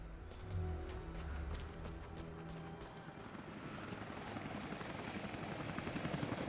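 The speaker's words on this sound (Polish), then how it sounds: "Helikopter." Helicopter in the video game Rise of the Tomb Raider, a faint rotor drone with rhythmic chopping pulses that grows steadier toward the end, with no talk over it.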